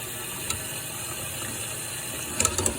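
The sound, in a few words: water running from a tap while mixing under cold water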